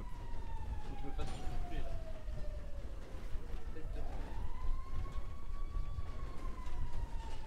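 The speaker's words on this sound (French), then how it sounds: "j'entends rien avec la sirène de pompier là, ça casse ma oreille" A fire engine siren wails in a rising and falling sweep through city street noise, loud and fairly close. Background voices are faint.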